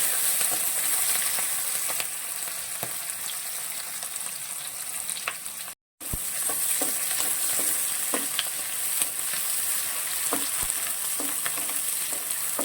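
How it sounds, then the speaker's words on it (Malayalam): Capsicum and onion stir-fried in a pan for Chinese-style gobi manchurian: a constant close sizzle with occasional spoon clinks and stirring scrapes, broken by a brief moment of silence, no speech. "ക്യാപ്സിക്കം ഉണ്ട് നമ്മൾ ഒത്തിരി വഴുത്തണ്ട ജസ്റ്റ് ഒന്ന് വഴറ്റിയാൽ മതി"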